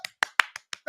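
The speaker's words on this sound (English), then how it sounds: "Clap that up." A quick series of about six hand claps, evenly spaced and crisp, fairly close but not loud, with silence between each clap.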